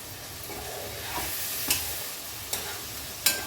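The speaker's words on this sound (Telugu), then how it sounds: "వంకాయలు మంచిగా చాలా బాగా మగ్గినాయి" A spoon stirs cooked brinjal curry in a pan over a steady soft sizzle, with a few sharp scrapes and taps of the utensil against the pan, close and alone.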